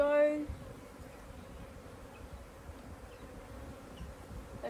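Honeybees in a top bar hive buzz in a steady, close, continuous hum during a first inspection, with a brief tonal whine at the very start.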